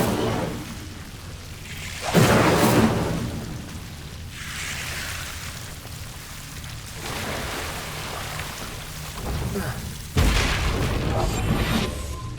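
Incendio fire spells cast in Hogwarts Legacy on PS5: two loud whooshing, booming bursts of flame, one near the start and one near the end, over a steady low rumbling game ambience.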